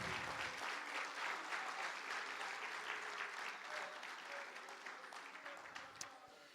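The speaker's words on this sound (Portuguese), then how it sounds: "Aplauda Jesus aí" Church congregation applauding during a worship service, a sustained wash of clapping that stays even for several seconds and slowly thins toward the end, fairly distant and alone without speech.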